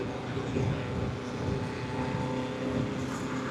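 A Bajaj Pulsar RS200 motorcycle riding along a road, with a steady, close engine drone and rushing wind noise throughout, continuous and fairly loud, with a voice faintly underneath.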